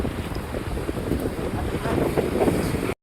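Steady roaring wind buffeting the microphone, broadband rumble and gusty swells throughout, with no voices.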